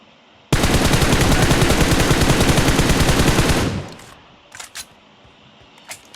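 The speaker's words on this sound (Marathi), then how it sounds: "आले काय फायरिंग होता फायरिंग आले बघ" Sustained automatic gunfire in the mobile game BGMI, a loud, rapid, evenly spaced burst lasting about three seconds, then a few faint scattered clicks and shots.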